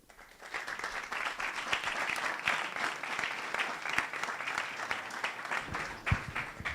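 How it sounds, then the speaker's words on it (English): Sustained, dense applause from a conference audience at Open Source Day 2024, steady and fairly loud with a few sharper claps standing out, no talking over it. "Another big round of applause for Mario, please."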